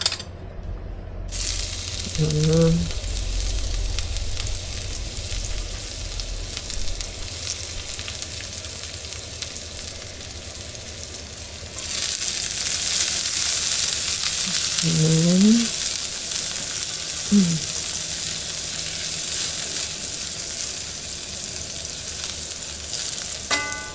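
Meat fries in a pan with garlic, giving a continuous loud sizzle that grows brighter partway through, with a few short voiced sounds over it.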